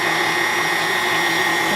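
Electric stand mixer whirring steadily as it kneads homemade calzone dough, a loud continuous motor hum with no pauses and no talking.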